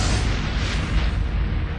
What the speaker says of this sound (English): the quiet town of La Seine-sur-Mer was rocked by a huge explosion